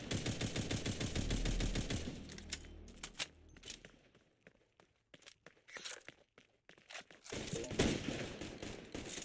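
Rapid gunfire in a video game, bursts of clipped repeated shots, dense at first, then scattered single cracks and another flurry near the end, fairly loud and close.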